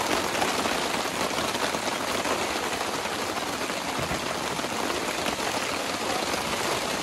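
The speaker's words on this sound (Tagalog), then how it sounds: "Palakas na yung ulan mga kabayan." Heavy rain pours down in a dense, continuous hiss with no pauses, loud and close, drumming steadily on the surfaces around it.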